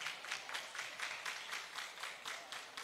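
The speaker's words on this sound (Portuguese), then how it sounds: "Uma salva de palmas, Fernando Tomé." Audience at an entrepreneurship and startup event in Natal clapping together in a steady, evenly spaced rhythm, a faint repeating patter of many hands with no voices.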